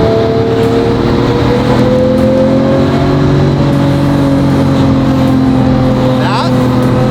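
A Porsche Carrera GT's engine revs loudly and climbs steadily in pitch as the car pulls through a tall first gear, with people talking over the constant roar.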